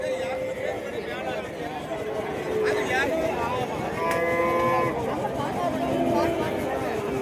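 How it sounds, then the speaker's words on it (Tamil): Buffalo calves and cattle mooing repeatedly at a busy livestock market in Gundadam, several overlapping calls near and far over a steady crowd babble, with people talking throughout. "பூவரசு மரத்தை ஒட்டி இது எல்லாமே எருமக்கன்றுகள்."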